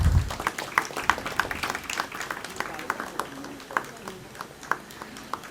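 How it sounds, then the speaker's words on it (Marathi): Scattered applause rises at an award felicitation ceremony, the 2021 Vaidya Satkar Samaroh, with uneven separate claps spread across the room and faint voices beneath. "कृपया टाळ्या झाल्याच पाहिजेत"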